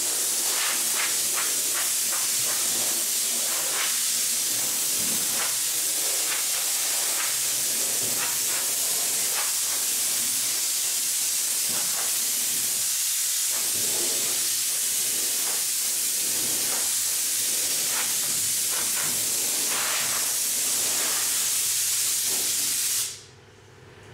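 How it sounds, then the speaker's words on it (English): A long, steady hiss of compressed air blowing off an aircraft wing before spraying, loud and close, with faint intermittent clicks underneath, cutting off abruptly at the end. "Okay, we just finished blowing and wiping the wing off."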